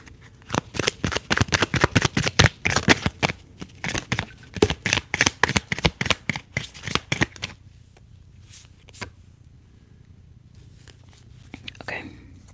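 Tarot cards shuffled in quick, crisp riffling bursts for several seconds, then a pause with a few scattered card flicks and soft handling sounds, close and intimate in a quiet room.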